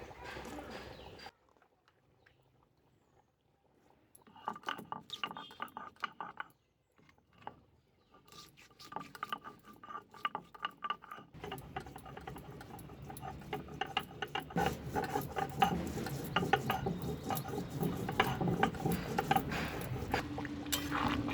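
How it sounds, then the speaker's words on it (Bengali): Garam masala spices are ground into a paste on a stone beside a wood-fired clay stove, giving rhythmic scraping and rolling strokes that start sparse and become steady and continuous, with a voice speaking quietly at times. "এবার গরম মশলাটা বেটে নেব"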